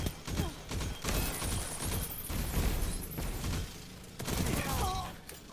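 Huckleberry exotic gun firing in the video game Destiny 2, rapid bursts of gunfire in dense sustained volleys with a pause near the end before firing resumes.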